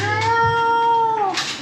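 A child imitates a cat with a single long, steady meow-like cry that bends downward at the end, loud and close with no other voices.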